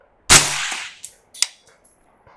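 A single sharp rifle gunshot through a Vanish suppressor, with a quick decaying tail, followed by a few faint metallic clinks and thuds.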